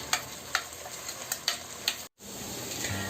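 Cashew-based butter chicken gravy simmering in butter and oil in a pan, a constant sizzle punctuated by several sharp spoon scrapes and taps against the pan, with a brief silent break.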